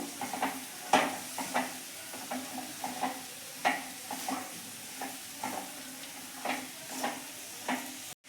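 Cabbage being stirred with spices in a pan for Gujarati kobij nu shaak. A wooden or metal spoon scrapes and tosses it in a steady rhythm of repeated strokes, close by, with a soft sizzle underneath and no talking.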